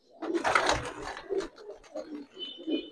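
Giribaz and coloured pigeons in a loft coo close by in short, throaty phrases, with rustling and brief handling noise at the start.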